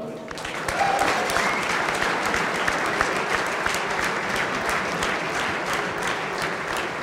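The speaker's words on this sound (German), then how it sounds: "Applaus" A packed audience applauds continuously at a celebration event in a hotel, dense steady clapping with a crowd murmur underneath, loud and sustained throughout.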